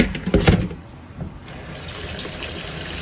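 Tap water runs over six cups of rice being rinsed in a sink, a steady near gush with a louder splashy burst at the start, then settling into an even flow.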